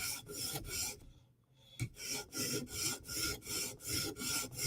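Chris Reeve Umnumzaan tanto knife with a mirror edge stroked across a sharpener, rhythmic rasping scrapes about twice a second, close and steady, with one short pause.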